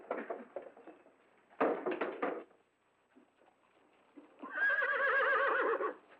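A 16-year-old chestnut gelding being readied for a state funeral procession gives several sharp whinnies, then a quiet gap, then a long, strong, quavering neigh that rings out clearly and alone.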